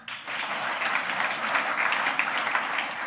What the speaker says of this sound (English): Give me a cheer. Give me a clap.